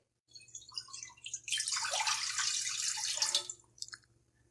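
Water pours into a kadai being readied for steaming a no-egg malai cake, a rushing splash that swells for a couple of seconds then tapers into a few drips, close and alone.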